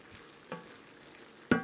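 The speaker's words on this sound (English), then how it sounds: "We'll give it a bit of a stir." A few scraping stirs in a pot of risotto-style pasta, two soft strokes then a louder clatter at the end, up close with no talking.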